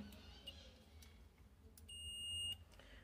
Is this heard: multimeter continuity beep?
yes